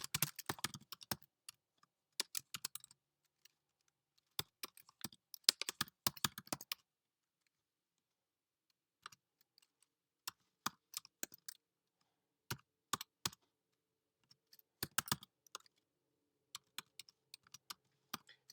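Keystrokes on a computer keyboard as a command is typed, quick bursts of crisp clicks separated by short pauses, close and clear with no talking.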